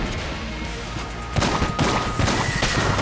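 Rapid mermaid-gun fire in Enter the Gungeon, a dense, continuous stream of shots that grows harsher and louder midway, with crashing impacts layered over a busy game soundscape and no talk.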